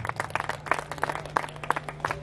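Scattered applause from an audience at a Hindi poetry recital on the Kumbh grounds, a loose patter of claps with a steady low hum underneath, moderately distant and without voices.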